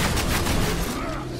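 An auto-fire shotgun in Evolve blasting rapid bursts at short range, a dense, loud run of overlapping shots with a rough texture, fading slightly toward the end.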